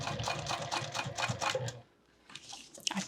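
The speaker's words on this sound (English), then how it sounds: "Let's sew it in place because now it's not so thick yet." A sewing machine stitches a strap adjuster onto a two-colour bag strap in quick, rapid needle bursts up close. It pauses briefly, then a few short clicks and shifts follow.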